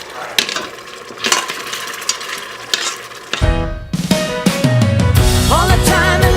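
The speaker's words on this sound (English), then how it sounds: "And then we're going to mix this up, let it saute for a minute, and then we're going to add it to our pan." Taco pie filling of meat and seasoning sizzles and is stirred in a pan, with scraping utensil clinks over a steady fry; music comes in partway through.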